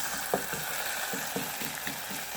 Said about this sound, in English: Now these have been cooking at medium-low heat